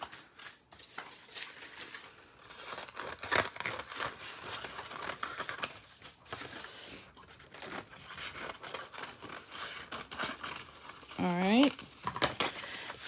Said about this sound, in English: I am going to cut it in strips going this way.